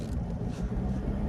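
A Fiat Panda 4x4 engine pulling under load in a low gear, a steady rumbling drone with road and cabin noise, moderately quiet and close, without talk.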